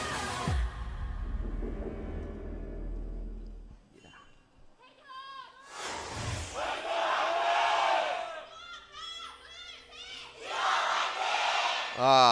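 A large esports arena crowd at a League of Legends match roars and cheers in waves, with scattered shouts and whoops rising over the din, swelling louder toward the end.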